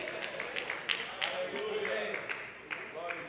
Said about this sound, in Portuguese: Eu só ouvi poucas palmas